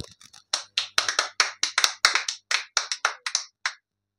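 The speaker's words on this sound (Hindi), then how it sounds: "स्वागत तालियों से करें।" A small group applauds to welcome the start of a classroom science experiment, a few scattered claps building into about a dozen loud, close bursts that fade out near the end.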